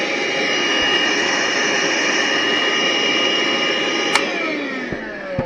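A Bauer cordless power tool runs on a Dewalt battery through an adapter, giving a steady, loud high-pitched motor whine that holds throughout, with a brief click near the end.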